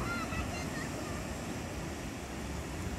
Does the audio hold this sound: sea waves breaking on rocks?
yes